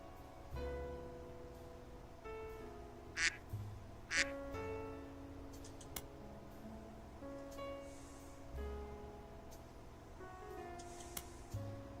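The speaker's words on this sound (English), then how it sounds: "Duck." Cartoonish duck quacks from the mystery game The Roottrees are Dead, a few short squawks rising over steady looping background music, close and fairly loud.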